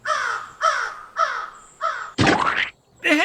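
A crow caws five times in a steady series of harsh, loud calls, followed by a short dull thump or rustle and the start of another call, all close by in a cartoon.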